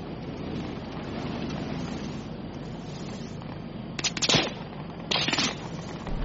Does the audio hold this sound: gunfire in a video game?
yes